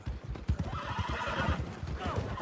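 A horse whinnies in Red Dead Redemption 2, a loud, wavering neigh running over clip-clopping hooves and game ambience.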